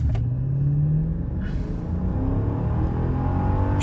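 A car braking hard and then accelerating from a standstill toward 100 km/h, timed with a Dragy device, gives a loud engine rumble that climbs steadily in pitch as it revs through the gears, heard from inside with no talking.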